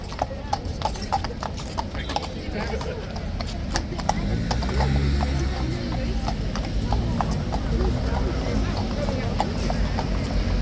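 Steady clip-clop of horse hooves on a hard surface, a regular walking rhythm against constant background noise and a low rumble.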